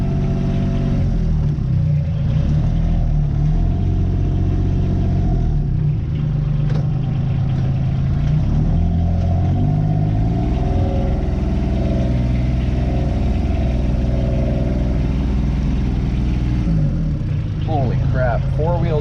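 A four-wheel drive vehicle strains off-road, its engine droning loud and steady with low rumble and shifting revs throughout, close by, under a possible voice near the end.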